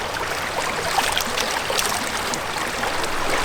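Water running steadily from a tap for washing hands and face, with natural mineral water at a roadside stop, a continuous close splashing trickle with no talk.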